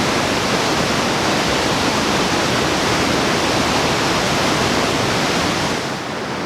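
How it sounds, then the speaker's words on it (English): Waterfalls just upstream from a camp in Northern Nevada produce a steady, loud, broadband rush of falling water that holds constant throughout, with no voices. "Some amazing waterfalls just upstream from camp."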